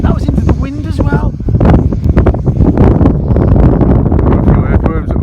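Strong wind buffets the microphone outdoors on a very windy day, a loud, steady broadband roar that gusts throughout with people talking over it.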